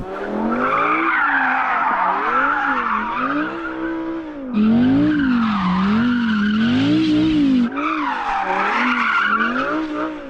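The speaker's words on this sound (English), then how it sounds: "Why don't you go and warm up your tyres now?" Tyres of a Porsche Cayenne Turbo GT or Audi R8 squealing loudly while being warmed up before a drag race, a sustained wavering screech that swells and fades in three long bursts, close and without talk.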